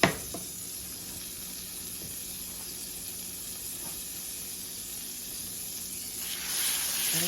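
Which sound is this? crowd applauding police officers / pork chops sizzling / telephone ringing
pork chops sizzling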